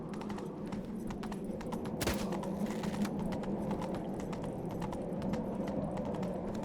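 A horse gallops in the video game The Witcher 3, with a quick steady clip-clop of hooves over a low rumbling background, moderately close and continuous, with one brief louder thud partway through.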